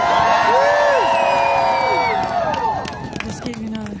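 A rally crowd cheers and whoops nearby, with voices rising and falling in overlapping shouts, over a continuous murmur of people talking.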